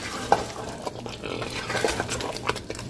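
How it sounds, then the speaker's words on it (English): Ogbono seeds toasting and being stirred in a pot for soup, giving soft scraping and light sizzling textures with a few sharper knocks, close and fairly quiet. "I'm toasting my ogbono."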